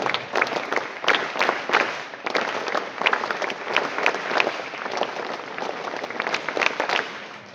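Steady applause from a school assembly crowd at a best student badge ceremony, many hands clapping together and filling the whole stretch at an even, moderately loud level.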